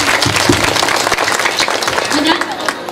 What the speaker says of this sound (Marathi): एकदा जोरदार टाळ्या वाजवले पाहिजे.